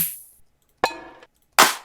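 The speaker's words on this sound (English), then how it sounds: "Drum sounds like this, that's gonna be easy to work with" Three separate punchy drum samples from Splice play alone with gaps between them. Each is a sharp percussive hit, a snare- or clap-like crack that decays quickly.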